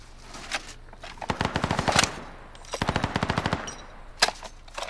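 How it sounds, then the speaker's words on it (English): Anti-aircraft gun in a video game firing in two long rapid bursts of heavy automatic shots, loud and close, with a few scattered single shots between and after. "I'm gonna go play on the AA gun."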